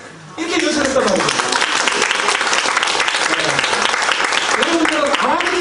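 Audience applause breaks out suddenly in a lecture hall and continues loud and dense for several seconds, with a voice speaking over the clapping.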